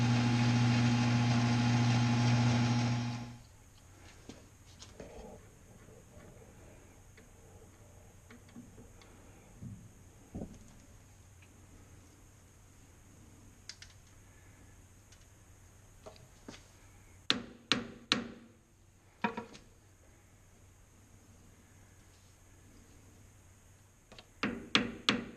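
A U-joint receiver cup being chamfered on a machine gives a loud, steady mechanical hum for a few seconds that cuts off abruptly, followed by quiet ticking and scattered sharp metallic clicks.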